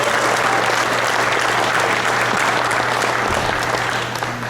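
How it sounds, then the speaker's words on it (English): An audience at an IPMS scale model show held at the San Diego Air and Space Museum applauds loudly and steadily, a dense wash of clapping under a low room hum that barely fades by the end. "let's give a round of applause to our annual host, Tony Barris"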